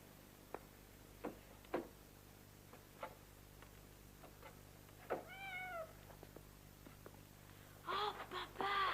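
A cat meows in a quiet indoor room: a couple of soft mews near the middle, then a louder cluster of meows at the end, with scattered faint clicks and ticks throughout.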